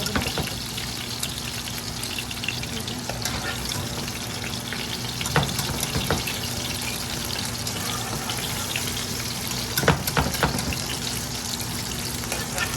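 Chicken pieces for chili chicken fry in a pan over a medium flame with a steady, dense sizzle, broken by a few clicks and scrapes as the pieces are turned. No one speaks.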